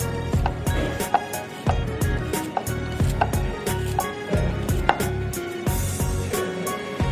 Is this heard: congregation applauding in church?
no